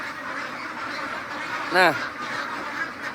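One hybrid Labio duck lets out a single loud quack in a crowded pen, rising over a continuous murmur of other birds while someone speaks briefly.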